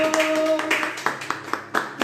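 A church congregation clapping during an Easter worship service, a steady run of sharp rhythmic hand claps under singing or speaking voices.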